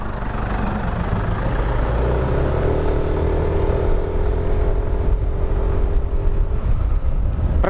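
Truck rumbling past on a bypass road, a steady low engine roar that swells and fades as it goes by, with other traffic noise around it.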